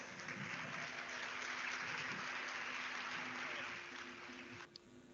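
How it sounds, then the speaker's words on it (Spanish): Audience applause for a road-safety project presented at an elevator-pitch workshop, a steady dense wash of clapping filling the room for several seconds before stopping abruptly near the end. "Por favor, dan un grandísimo aplauso a Tile Barrier."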